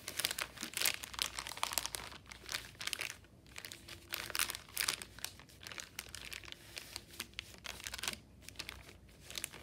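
Paint is squished around inside a plastic bag, giving quiet, continuous crinkling and crumpling with irregular bursts of squishing throughout.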